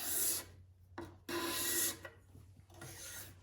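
Card scraper shaving across a wooden surface in several firm strokes, each a bright, close rasping scrape separated by short pauses.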